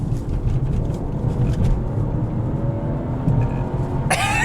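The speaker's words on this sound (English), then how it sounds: "The turbo spools up so much faster." A BMW 540i G30 with an MHD Stage 1 tune accelerates hard, heard from inside as a loud, steady engine and road rumble, ending with a brief sharp burst near the end.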